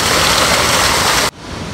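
Water rushing through a channel toward a traditional forest water mill makes a loud, steady hiss, which cuts suddenly to a softer, duller flow near the end.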